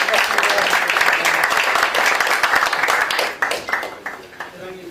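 Applause from an audience at a forum founders' meeting as a newspaper association leader is introduced, a dense steady patter of clapping that thins and trails off in scattered claps near the end.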